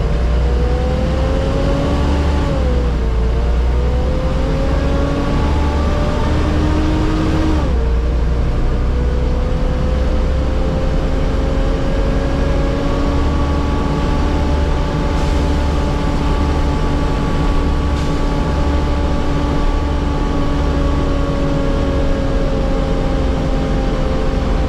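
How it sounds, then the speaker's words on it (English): An ALX 400 bus engine runs loud and close for the whole stretch, droning steadily with gear changes around the third and eighth seconds and rising and falling pitch as it pulls away and cruises. "I just wanted to share with you this clip of how amazing this ALX 400 sounds."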